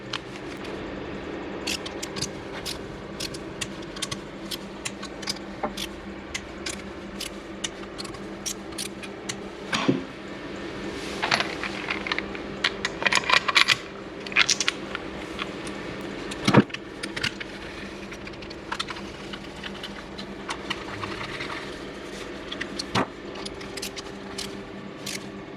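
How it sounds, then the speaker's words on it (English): Torque wrench work tightens the engine cover bolts to 10 newton meters on a DRZ 400 engine build, heard as scattered sharp metallic clicks and ticks over a quiet background, with occasional tool handling and clinks. "we need to torque them first because some of them won't be reached after that"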